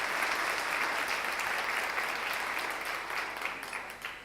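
A church congregation at a Spanish-language sermon breaks into steady, dense applause that stays loud and even throughout, easing slightly near the end.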